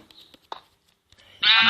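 A sheep in the Minecraft PE video game lets out one loud, sustained bleat after a few faint clicks and soft game sounds.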